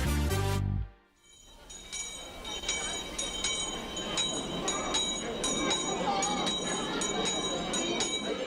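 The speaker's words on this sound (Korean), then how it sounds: "해마다 연말이면 거리에서 들리는 이 종소리 기억하십니까?" A Salvation Army charity kettle handbell rings on a city street during the year-end holiday season. After a short break at the start, quick repeated strokes of the bell ring out over a steady wash of street noise.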